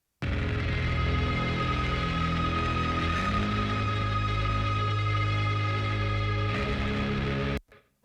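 A droney sub bass tone made by an EBow on a bass guitar, a thick, steady sustained drone with layered harmonics that holds evenly for about seven seconds before cutting off.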